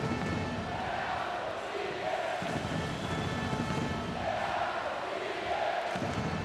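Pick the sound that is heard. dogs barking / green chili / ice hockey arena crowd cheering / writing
ice hockey arena crowd cheering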